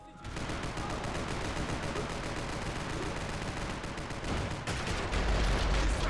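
Gunfire in Max Payne 3 multiplayer, a dense continuous roar of automatic shots and overlapping bursts, loud and close, intensifying near the end, with faint voices beneath.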